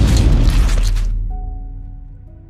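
A loud, deep grenade explosion, a boom with a rumbling burst that cuts off after a second, leaving a low fading rumble and faint ringing.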